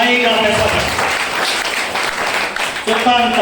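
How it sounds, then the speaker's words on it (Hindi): An audience at a speech breaks into loud, sustained applause, dense clapping filling the room while a voice carries over it. "ताली जोरदार वाली बजाइए।"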